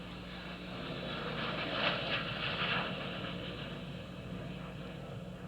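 A Dassault Falcon 900LX business jet passes at Reno with a steady broad roar that swells slightly in the middle and then holds, heard from a moderate distance with no talking.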